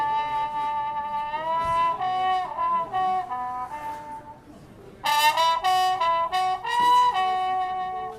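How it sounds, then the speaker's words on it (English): A trombone played through a solo tone mute, the style used by 1940s dance bands, carries a muffled, nasal melody of sustained notes that runs alone throughout, dipping softer in the middle before brighter, louder phrases return. "this is the solo tone mute"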